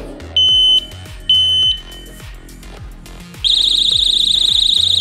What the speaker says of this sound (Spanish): la alarma suena a 100 decibelios